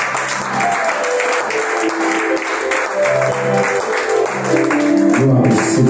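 A church congregation at a Sunday service applauding together, sustained clapping from many people over a warm musical backdrop of sustained tones, loud and full throughout.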